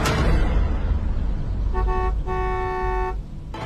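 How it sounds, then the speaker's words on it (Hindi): A car horn toots twice, a short blast then a longer one, over a steady rumble of road noise. "लेकिन कुछ ही देर बाद एक कार की हॉर्न ने अंतरा के साथ साथ रुद्र और मधु का भी ध्यान अ"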